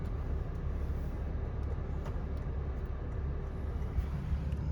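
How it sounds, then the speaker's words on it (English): Road traffic passing outside, heard from the cabin of a Lexus IS 350 F-Sport sedan, a steady low rumble with soft whooshes of nearby vehicles, muffled and fairly quiet inside the car, no talking. "Lots of traffic."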